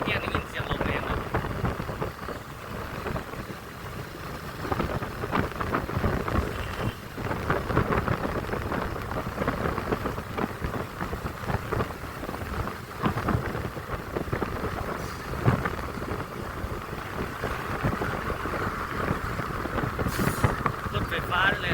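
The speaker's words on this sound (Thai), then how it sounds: "ได้ยินเสียงลมแรงนะ" Strong wind roaring and buffeting against the microphone while riding through Vientiane, a continuous loud rushing that surges and fades over the whole stretch.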